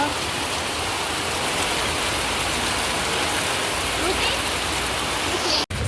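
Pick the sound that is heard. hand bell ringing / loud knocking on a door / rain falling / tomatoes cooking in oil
rain falling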